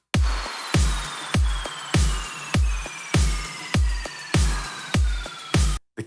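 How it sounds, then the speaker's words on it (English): A punchy electronic drum loop: a deep kick with bright hits and rising synth sweeps, eleven steady beats repeating evenly, loud and alone. "Let's check out the drums first."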